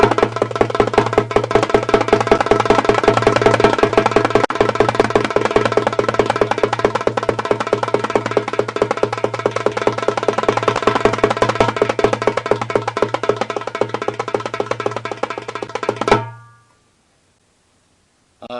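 A darbuka played with a butterfly roll: a fast, continuous stream of crisp hand strikes over a resonant low drum tone, steady and loud up close for about sixteen seconds before stopping abruptly.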